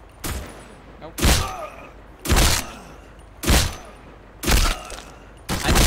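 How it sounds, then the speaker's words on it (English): Headshot hits in the online shooter Black Squad: six loud, sharp impacts spaced roughly a second apart, each with a brief decaying tail over quiet background. "I'm hearing headshots"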